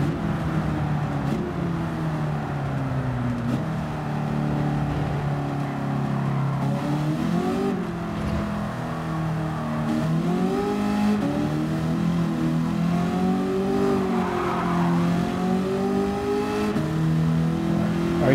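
A 1971 Ford Mustang Mach 1 races in Gran Turismo 7, its engine droning loud and steady, repeatedly revving up and easing off through corners over a constant road roar, with no voices.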